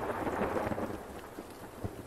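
Steady rain hisses in the Zed Zone game as the player approaches an urban area, with a low rumble like distant thunder and a few scattered drop impacts across the short stretch.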